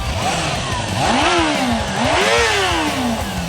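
A Suzuki GSX-R 400 motorcycle engine revs up twice, a loud buzzing whine that rises and falls in pitch with each throttle blip, close and continuous.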